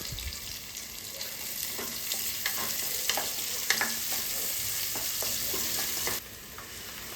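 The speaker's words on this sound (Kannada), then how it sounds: "ಒಂದು ಈರುಳ್ಳಿನ ಹಾಕಿ ಚೆನ್ನಾಗಿ ಫ್ರೈ ಮಾಡ್ಕೋತಾ ಇದ್ದೀನಿ" Chopped onion frying in oil in a cooking pot, giving a steady close sizzle with scraping stirs throughout and no talking.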